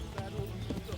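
A horse in the Kingdom Come: Deliverance video game gives a brief whinny amid hoof clatter, mixed with a voice talking over it in a single short burst.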